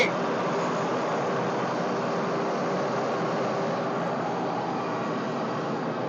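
A steady, dense rumble and rush of an MRT train in motion, heard from inside, constant and fairly loud with no talking.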